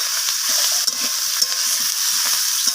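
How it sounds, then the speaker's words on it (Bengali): Vegetables fried with ground cumin and other spices, a dense continuous hiss of sizzling oil with soft irregular scraping and shuffling as the mixture is stirred, close and steady throughout. "সব কিছু মশলা আমি সবজির সাথে মিশিয়ে নিয়ে এইভাবে নাড়াচাড়া করে কষিয়ে নিচ্ছি"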